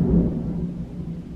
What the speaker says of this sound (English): So if you hear a thunderstorm or something like that, it's outside.